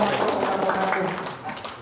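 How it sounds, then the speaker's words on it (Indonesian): Hand clapping from an audience sounds under overlapping chatter and voices, steady and fairly close, easing off slightly toward the end. "Set, tepuk tangan dong"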